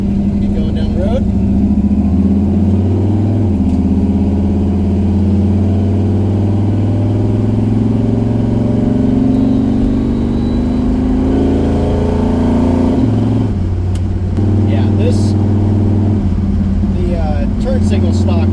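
A Dodge Charger driving down the road, its engine a steady low drone heard from inside the cabin with a brief shift in pitch, while a person talks over it.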